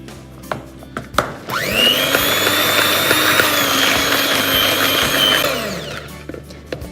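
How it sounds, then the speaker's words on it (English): Electric mixer beating butter with sugar and sweetened condensed milk for gluten-free chocolate cookies: a steady loud whirring drone that starts after a few clicks, runs about four seconds, then winds down. "we're going to keep beating until the butter is really light and fluffy"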